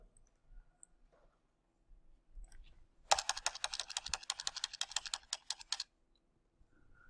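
Rapid keystrokes on a computer keyboard during an R programming session, a dense burst of clicking for about three seconds between quiet stretches, close and clear with no talking.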